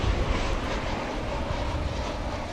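An airliner in US Airways heritage livery passes at night at Dallas Fort Worth Airport, its engines producing a continuous broad roar that stays loud and even and tapers slightly.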